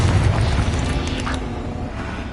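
A Bombarda blasting spell explodes in Hogwarts Legacy: a loud, sustained rumbling boom with a dense low roar that carries steadily through the whole stretch.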